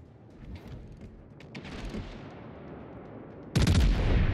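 Ship guns firing shells in a naval video game featuring the Picardie, with rumbling gunfire and scattered cracks building up before a sudden loud blast near the end, heard alone without talk.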